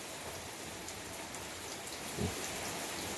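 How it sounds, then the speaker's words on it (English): Steady rain falling all day on a mountain top near Fayetteville during a September rainstorm, a dense continuous hiss of drops with a brief low thump partway through, even and alone without voices. "it's been raining here all day today"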